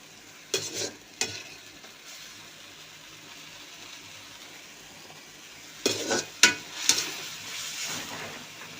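Onions and meat fry in oil with a continuous sizzle. Sharp scrapes and clinks of a utensil stirring against the pan come near the start and again toward the end, and no one speaks.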